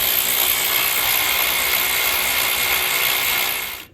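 A ratchet wrench clicks rapidly and steadily while loosening a fastener during head gasket disassembly of a 2003 Toyota Highlander 2.4L engine. The whirring ratchet sounds close and loud, then stops abruptly at the end.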